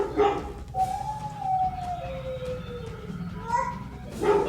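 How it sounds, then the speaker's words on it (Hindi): A dog-bark sound effect played from an Alexa smart speaker in a home, heard as a wavering howl-like tone with a few short bark bursts, fairly loud and close, with no talk over it. "फिर उसने कुत्ते की आवाज़ निकाली"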